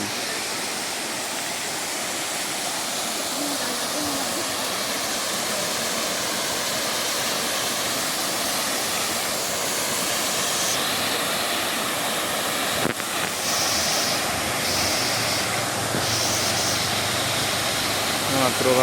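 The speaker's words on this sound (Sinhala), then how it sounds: "මෙන්න ඇල්ල." A waterfall near Haputale, Sri Lanka, where people bathe, gives off a steady, loud roar of rushing water that fills the scene from start to end.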